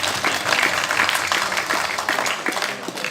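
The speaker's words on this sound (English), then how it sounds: "Can we have a round of applause for them?" Audience applause breaks out at a corporate quiz competition, dense steady clapping from a crowd sustained for about three seconds, near and fairly loud.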